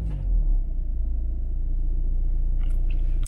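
A VW Golf MK7 engine idles at slightly raised RPM, a steady low rumble heard close up with a faint clatter toward the end.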